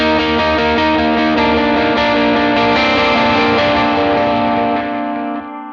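Heavily distorted electric guitar rings out with open, unmuted chords, thick and loud with effects-laden sustain and a wash of overtones, played alone for several seconds before fading and cutting off.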